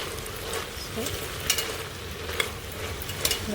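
Spoon stirring and mixing pulao made with dill and fenugreek greens in a pan, a steady low scraping and soft sizzle with a few sharper clinks against the pan, close and continuous with no talk.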